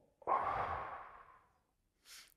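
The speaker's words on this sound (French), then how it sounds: "Une respiration." One deep breath is drawn in sharply and then let out slowly, close and fairly loud. A faint, short exhale comes after a pause.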